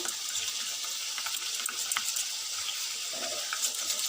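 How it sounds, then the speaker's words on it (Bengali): Chicken is whisked and beaten together with yogurt in a bowl, giving a faint, continuous wet stirring and swishing with small clicks, close and alone. "আমি দইয়ের সঙ্গে ফেটে নিচ্ছি"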